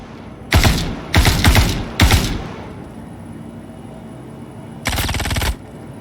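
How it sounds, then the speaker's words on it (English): Automatic weapon fire in the Star Citizen shooter comes in four rapid bursts, three close together and one after a pause, sharp and loud over a faint ambient hum with no talking. "but he is actually shooting me."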